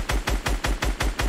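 Fortnite gunfire: a rapid string of about seven evenly spaced shots, each punchy with a low thump, fired in one quick burst with no talking.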